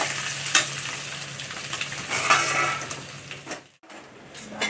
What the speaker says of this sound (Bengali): মাথা ভাজাটাকে 7-8 মিনিট ধরে ফ্রাই করার পরে এবারে আমরা নামিয়ে রাখলাম।